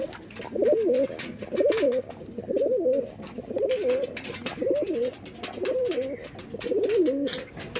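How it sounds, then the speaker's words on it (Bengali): Andhra pigeons coo over and over in a loft, giving repeated rhythmic rolling calls at close range, with faint clicks and rustling behind them. "দেখছেন কত অ্যাগ্রেসিভ পায়রা"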